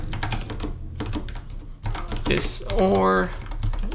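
Rapid keyboard typing while writing code, a dense run of close, crisp key clicks with someone talking over them.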